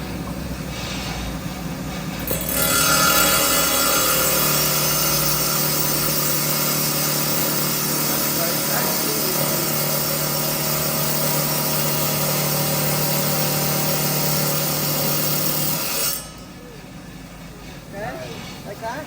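A lapidary grinder shaping a stone into a cabochon, a steady loud whirring drone with a constant hum that starts abruptly, runs for about thirteen seconds and then cuts off, with faint voices underneath.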